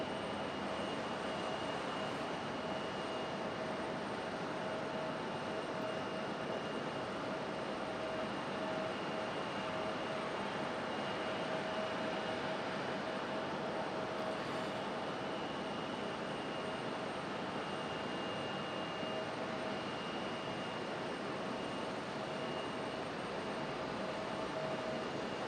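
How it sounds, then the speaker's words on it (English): An Airbus A319 arriving from New York at Raleigh-Durham International Airport gives off a constant, even engine roar with faint steady whining tones, unbroken for the whole stretch and with no voices. "Here comes our A319 coming in from New York."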